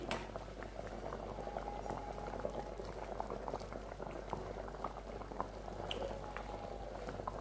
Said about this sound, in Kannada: ನೋಡಿ, ತುಂಬ ಚೆನ್ನಾಗಿ ಕುದೀತಾ ಇದೆ ಸಾಂಬಾರ್